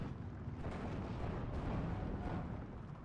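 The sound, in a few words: tank cannon fire in the video game Steel Division 2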